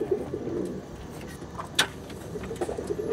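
Madrasi pigeons cooing softly in a low continuous murmur, with a brief sharper call and faint chirps over a steady background hum.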